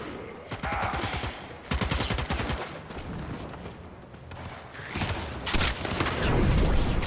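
Gunfire from the video game Warframe comes in rapid bursts of loud shots separated by short gaps, with mechanical clatter between volleys.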